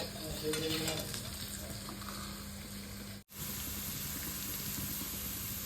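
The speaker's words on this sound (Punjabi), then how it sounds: "ਹਾਂਜੀ ਗੈਸ ਤੜਕਾ ਆਪਣਾ ਇਦਾਂ ਭੁੱਜ ਗਿਆ ਹੈ" A tadka for aloo pyaz kadhi frying in a pan on a gas stove, giving a faint, continuous sizzle with a steady background hum and a brief dropout midway.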